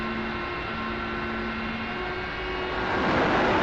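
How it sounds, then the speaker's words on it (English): Jet engines of an F-4 in a flight video game drone in a steady, broadband roar with faint tonal whine, swelling slightly louder near the end, with no talking. "I love the sound of the engines in this thing."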